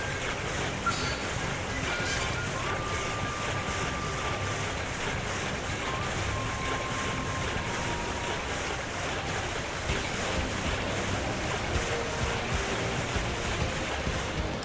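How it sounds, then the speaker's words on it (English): A waterfall in the video game Xenoblade Chronicles X, a steady broadband rush of falling water heard alone throughout. "This waterfall."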